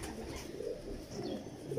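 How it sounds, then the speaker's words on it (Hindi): Mistri-type Missay pigeons coo softly and steadily from close by in a loft display, a low murmuring burble with no talk over it. "ये दोस्तों देखिए कैसे खूबसूरत कबूतर"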